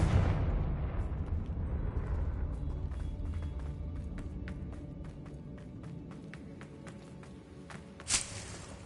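A Confringo fire spell blast in Hogwarts Legacy: a heavy explosive burst opens loudly and fades into a rumbling tail with scattered crackles and clicks, then one sharp pop near the end.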